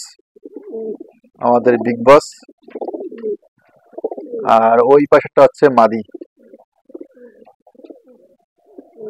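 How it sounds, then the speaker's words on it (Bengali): Bagh bakom pigeons coo in soft, low bursts from close by, heard between and beneath someone talking. "বাঘ বকম পায়রা, বাঘ বকম করে ডাকতেছে"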